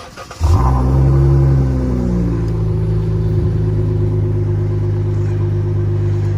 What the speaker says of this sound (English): Here go a cold start.